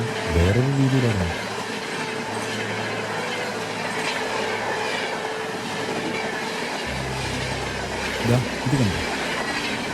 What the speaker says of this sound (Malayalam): ദേ, ഒരു ട്രെയിൻ വരുന്ന ശബ്ദം കേൾക്കുന്നില്ലേ?